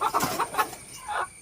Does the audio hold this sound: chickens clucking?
yes